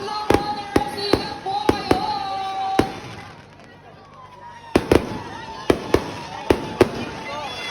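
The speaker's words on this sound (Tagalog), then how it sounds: "at syempre may pang fireworks ako." Sharp firework bangs crack out in scattered bursts at the start of a running race in Mariveles, Bataan, some close together, with a lull midway before more pops resume, over a busy crowd murmur.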